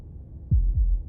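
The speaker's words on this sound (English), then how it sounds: "That was the sound of a heartbeat" Heartbeat sound effect from the video game Slay the Princess: two deep, thudding beats about a quarter second apart, emerging loudly from a low, quiet hum with no voices.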